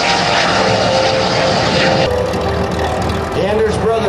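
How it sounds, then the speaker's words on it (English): A P-51 Mustang and an L-39 Albatross fly together at the 2004 Bellingham, Washington airshow. A loud engine roar and propeller drone sweep past and then fade into a thinner, more distant hum. "The Anders brothers, one in the P-51 Mustang, the other one in the L-39 Albatross"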